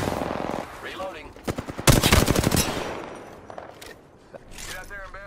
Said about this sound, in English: The enemies are shooting at me. Recharging shields. Shots fired, and they're hitting.